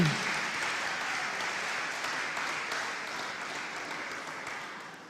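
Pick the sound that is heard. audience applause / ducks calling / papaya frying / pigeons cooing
audience applause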